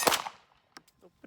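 A single sharp report from a DVC Carry handgun at close range, followed by a decaying ring and a few faint, scattered clicks and clatters, with no talking.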